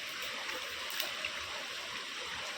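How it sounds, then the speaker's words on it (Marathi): Water runs steadily over raw chicken being washed outdoors, a constant soft rushing stream with faint splashes, heard close and alone without voices. "चिकन धुवून घ्यायचं व्यवस्थित. आणि काय वाहते, पाणी निघून जाईल सगळं."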